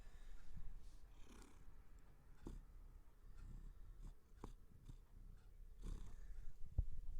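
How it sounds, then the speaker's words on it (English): A cat sleeping upside down purrs steadily right beside the microphone, a faint, low rumbling with soft rhythmic pulses across several seconds in an otherwise quiet room. "he is sleeping upside down while I record this, purring away"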